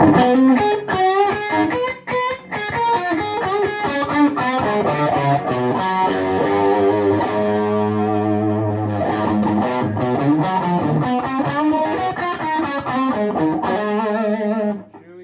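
A heavily overdriven electric guitar through a TopHat Rialto Reverb 1x12 tube amp with a Vintage 30 speaker plays a gritty, distorted riff with sustained chords and choppy strummed passages, loud and continuous throughout.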